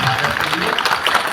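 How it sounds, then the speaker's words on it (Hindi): A satsang congregation gathered for a weekly religious program claps in applause, a dense wash of hands under and around a voice that continues speaking through it. "जरा जोरदार तालियां हो जाए"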